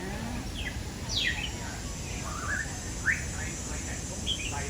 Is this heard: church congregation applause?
no